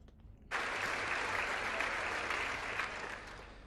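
Applause in the chamber of the US House of Representatives breaks out suddenly after a brief quiet moment, then holds as a steady, dense clatter of many hands before easing slightly near the end.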